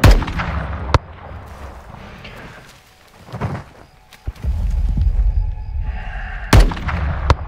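Sniper rifle gunfire in the Modern Warfare 2 campaign, with sharp loud single cracks and heavy booms spaced a few seconds apart, mixed with rumbling battle ambience and metallic clangs.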